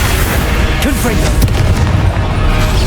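A Confringo fire spell bursts in Hogwarts Legacy with a loud booming blast amid continuous game noise, a couple of sharp impacts standing out over the dense rumble.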